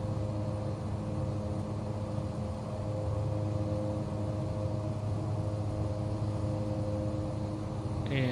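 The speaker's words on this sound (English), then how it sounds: "line up. And do our takeoff." An aircraft takeoff roll in Microsoft Flight Simulator, heard as a steady, droning engine roar with a constant hum that holds even and unbroken throughout.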